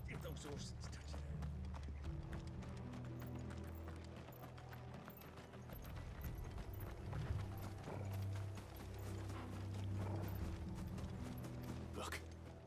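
Video game horses clip-clop steadily at a trot, with creaking and mechanical rattles, over a low rumbling bed and occasional voices.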